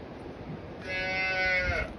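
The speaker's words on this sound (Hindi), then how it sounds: "ये बकरी का बच्चा, ये भैंस और ये गाय।" A farm animal call, likely a cow's moo, rises partway in among goats, buffalo and other livestock at a rural home in the hills, a drawn-out, moderately loud tonal bellow over steady outdoor background noise.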